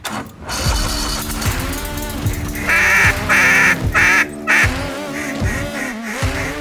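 Ducks quack loudly and repeatedly during a duck hunt, several calls overlapping in a busy, honking chorus with rough noise behind.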